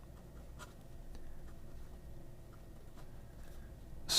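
Asvine C80 fountain pen with a large, wet, non-flex nib writing on paper, giving a faint, close scratching with soft repeated strokes over a quiet background.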